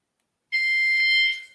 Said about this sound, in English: Oh, Lord, the keys got set off. Hold on, sir. That's the alarm on Bessie.